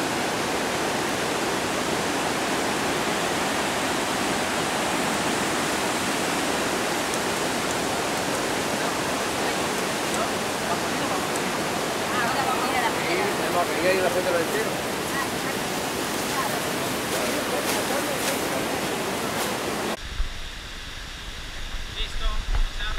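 Iguazu Falls pours out a steady, loud broadband roar of falling water that fills the whole stretch, with a person's voice briefly audible beneath it before the sound cuts near the end.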